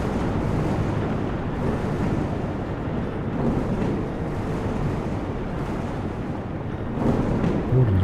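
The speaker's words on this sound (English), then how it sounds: "Thunder and lightning as well as a tornado, have we?" Rumbling thunder and stormy wind in the game Life is Feudal, a dense, loud, continuous low roar that swells slightly toward the end, with no talking over it.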